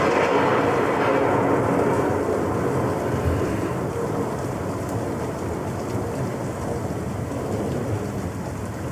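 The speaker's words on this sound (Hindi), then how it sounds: "ये तूफान कब खत्म होगा यार?" A heavy storm roars with steady, loud rain and deep rolling thunder, a dense continuous wash of sound with no voices.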